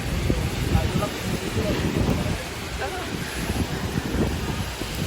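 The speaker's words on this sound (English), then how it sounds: "it is definitely a big storm where we are in Milano" Big storm in Milan near Lake Como with wind gusts and rain, rumbling, uneven and loud, rising and dipping throughout as the wind buffets the microphone.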